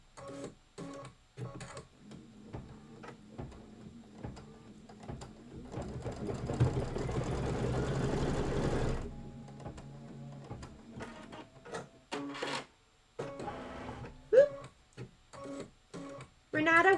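An embroidery sewing machine stitches fabric in a steady mechanical whir with fast needle ticking. It is loudest in the middle and stops and starts around it, under intermittent talk.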